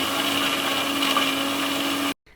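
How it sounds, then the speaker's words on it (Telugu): Electric mixer grinder whirring loudly and steadily as it grinds coconut and tomatoes into a smooth paste, a constant motor whine that cuts off abruptly near the end. "కొబ్బరిని మనం గ్రైండ్ చేశాక నెక్స్ట్ మనం టమాటాలు అవన్నీ దీంట్లో వేసుకొని గ్రైండ్ చేసుకుంటే పేస్ట్ అనేది మంచిగా స్మూత్గా అవుతుంది"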